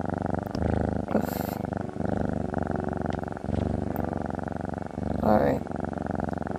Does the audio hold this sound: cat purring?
yes